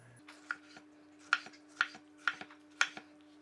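Sharp kitchen knife slicing a tomato on a cutting board for pico de gallo, five or six crisp separate cuts at a steady pace, close and fairly quiet, with a low steady hum underneath.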